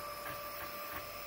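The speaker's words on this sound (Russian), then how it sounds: "А вот этот вентилятор, он дует на непосредственно модель, чтобы она была покрепче" A 3D printer runs mid-print with its part-cooling fan blowing on the model, giving a quiet, steady whir and faint stepper hum with soft recurring swells, heard up close with no talking.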